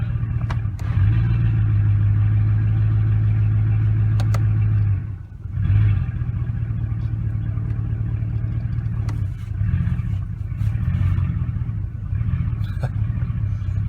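A 2004-2008 Ford F-150 with a stalling transmission idles in drive, a loud steady low engine rumble that dips briefly as if nearly dying, then recovers and keeps running with faint clatter.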